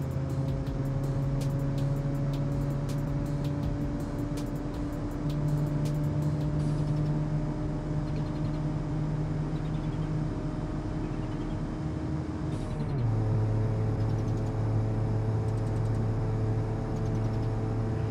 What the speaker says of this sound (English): Fourth gear in, and it's pushing. This thing is just keeps on pushing.